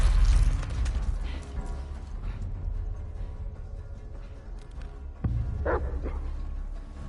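A dog barks in the video game The Last of Us Part 2, with a couple of sharp barks heard fairly close against a quieter, rumbling game ambience.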